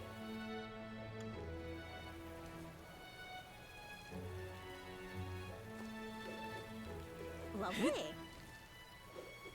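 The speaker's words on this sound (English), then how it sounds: "I hate the rain" Rain falling in a fantasy role-playing game, a steady soft hiss laid under sustained musical tones, with someone speaking briefly and a sharp rising effect near the end.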